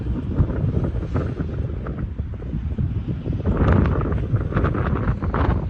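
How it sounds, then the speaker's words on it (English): Strong wind buffets the microphone beside an oversized 16-foot-wide truck load, in a loud, continuous roar with gusty surges, no voices heard. "It is so freaking windy"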